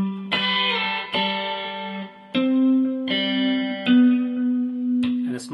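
Guitar plays a passage of a song from measure 11: a run of clear, ringing plucked notes with open strings sustaining underneath, struck one after another at a relaxed pace, close and alone.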